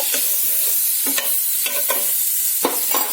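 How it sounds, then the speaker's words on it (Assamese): Butter, about a spoonful, sizzles in a hot pan with a steady close crackle, broken by several sharp utensil scrapes and taps, with no voices. "মই তেৱা গৰম কৰি থৈছো ইয়াতে মই অলপ বাটাৰ দিম 1 চামুচ বাটাৰ"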